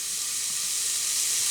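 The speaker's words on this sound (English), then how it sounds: "I'm just going to fry these onions now until they start to become translucent and clear" Onions frying in a pan for spicy baked beans, giving a continuous, even close-up sizzle with no talking.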